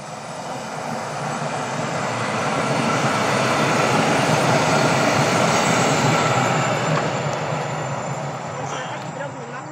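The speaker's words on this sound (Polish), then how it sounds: "Pociąg jedzie znowu. Ruchliwa trasa." A train passes along a busy line near a locomotive depot and roundhouse in Katowice, a broad steady rumble swelling to a loud peak mid-way and then easing off as it goes by.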